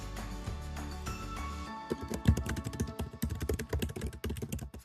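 Fingers type on a computer keyboard, with a quick, uneven run of close clicks and key taps after a short tonal lead-in, and no voices.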